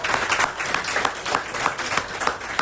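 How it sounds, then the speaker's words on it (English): An audience at a volleyball parish kick-off show claps and applauds for the teams, a steady patter of many hands close by throughout. "Let's give them a round of applause."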